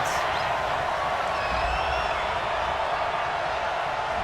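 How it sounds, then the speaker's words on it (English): A football stadium crowd in a Falcons versus Seahawks game reacts to a penalty call with a loud, continuous roar of disapproval that stays dense and even from start to finish. "this crowd does not like that call"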